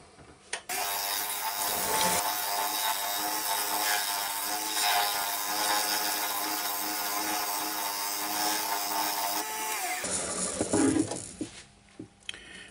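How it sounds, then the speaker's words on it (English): A skew chisel cutting a wooden pork pie pot on a woodturning lathe, giving a loud continuous shaving hiss and rub for about ten seconds before stopping and leaving quieter handling sounds. "I think by the time I've gone through this with the skew chisel, which gives me the angle for my shoulders"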